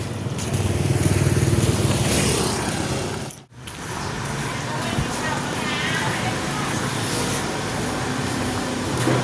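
A motor vehicle, likely a motorcycle, runs steadily on the way to the Lak 8 market in Savannakhet, its engine a continuous close drone that dips briefly once, with faint voices underneath.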